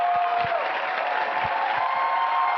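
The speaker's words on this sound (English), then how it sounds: "Let's give a round of applause one more time for our comedians" A comedy club audience applauds steadily in a dense, continuous wash of clapping, with scattered cheers and whoops mixed in. It stays loud and sustained throughout.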